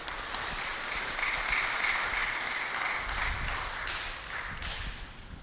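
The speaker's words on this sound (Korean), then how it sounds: "뜨거운 박수로 맞이해 주시기 바랍니다" An audience claps warmly to welcome the chair at a redevelopment association general meeting, a broad, sustained ripple of many hands that rises slightly mid-way and tapers toward the end.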